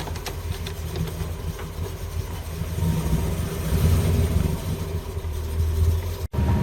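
A Holden Kingswood car's engine drones steadily from inside the cabin on a test drive, with a low, even rumble that swells a little midway and cuts off briefly near the end.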